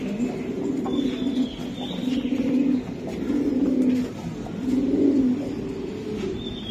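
Racing pigeons coo in repeated soft, low rolling phrases, close and steady, with faint background noise and no talking.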